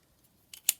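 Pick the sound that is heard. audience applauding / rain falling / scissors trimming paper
scissors trimming paper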